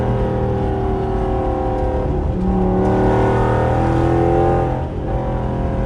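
A 400+ hp R/T car engine with a newly installed intake roars loudly as it accelerates on a highway, the intake noise rising and swelling steadily for several seconds before easing off.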